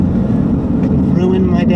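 Steady roar of a Jeep Grand Cherokee SRT8 engine under hard acceleration out of a corner, loud and continuous with heavy low rumble and wind noise throughout.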